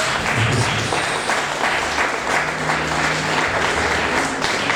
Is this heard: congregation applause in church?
yes